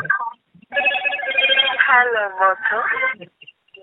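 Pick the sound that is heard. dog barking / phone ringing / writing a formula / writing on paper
phone ringing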